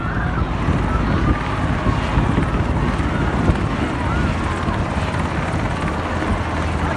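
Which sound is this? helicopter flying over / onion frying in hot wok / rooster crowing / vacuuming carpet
helicopter flying over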